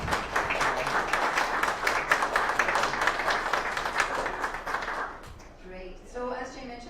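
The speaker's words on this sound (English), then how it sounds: "let's give them a round of applause" An audience at an educational and awareness day event gives a round of applause, with dense, sustained clapping for about five seconds before it fades and a voice begins speaking.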